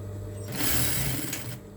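Sewing machine stitching a round or straight long cap, a single short whirring burst of rapid stitching, close and clear, with quiet pauses before and after.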